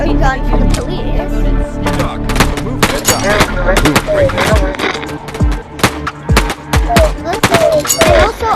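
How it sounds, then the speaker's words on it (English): Shots from a police starter gun in the bird game I Am Bird, several sharp loud bangs scattered irregularly among clattering game noise and brief chirps. "The starter gun for the police."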